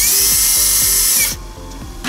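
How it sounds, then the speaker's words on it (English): A power drill whirs loudly up close while loosening a wiring loom in a car amplifier and subwoofer install, then cuts off partway through, leaving quieter clicking and grinding of the chuck. "I'm just going to take a drill,"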